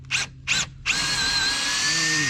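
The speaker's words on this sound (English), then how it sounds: "We'll just take a drill bit" Three short drill bursts start and stop, then the drill runs continuously with a steady high whine, close and loud.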